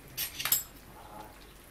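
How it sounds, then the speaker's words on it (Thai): A spoon cuts through cooked potato in a pot of chicken massaman curry, giving a few quick, close metallic clinks and scrapes against the pot in a brief burst, then quiet. "เอาช้อนลองตัดดูค่ะตัดง่ายละแสดงว่ามันฝรั่งสุกแล้ว"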